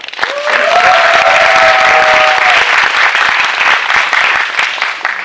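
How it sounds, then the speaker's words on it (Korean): Audience applause at a Korean horror film screening Q&A, a loud burst of many hands clapping that swells quickly and then slowly thins out, with a brief whooping cheer early on. "여러분도 그러셨다면 박수 한번 쳐주세요"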